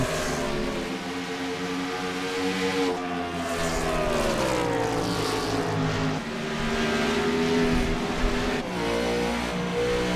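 Race cars roar past on a circuit during a race, engines climbing and falling in pitch as they rev and shift, a continuous loud drone with overlapping cars.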